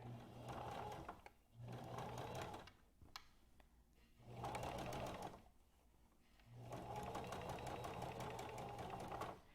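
A sewing machine stitches a fabric face mask in several steady runs of whirring, broken by short pauses as the fabric is turned, close and moderately loud.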